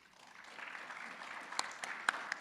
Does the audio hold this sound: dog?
no